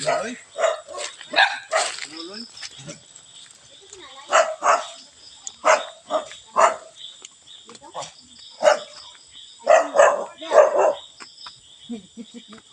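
A dog barks repeatedly in short, irregular bursts, moderately close, mixed with voices talking nearby.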